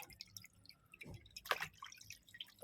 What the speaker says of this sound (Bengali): এখন মাছটা ধুয়ে নেব।